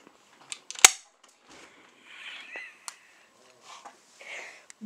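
An airsoft gun firing, a few sharp snapping shots spaced irregularly, one louder crack early on, with quiet rustling and faint voices between.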